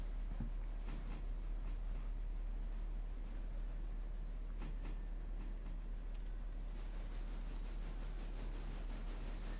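A locomotive running in a Smoky Mountain railway video game gives a steady, low rumbling drone with a constant hiss, alone and without voices.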